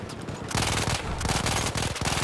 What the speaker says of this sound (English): I'm looking at a machine gun.